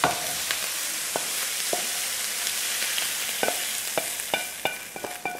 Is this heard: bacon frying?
yes